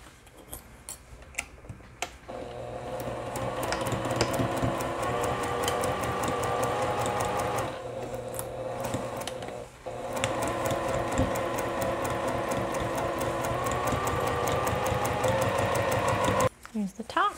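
Sewing machine stitching lining into a fanny pack, long runs of steady whirring needle clatter with short stops and mechanical ticks, close by; a person speaks during it.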